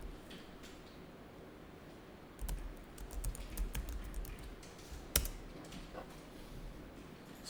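Computer keyboard typing while entering figures into accounting practice-exam software, with a run of quick, close, light key clicks and a sharper single keystroke like the Enter key about two-thirds through; quiet room, no talking.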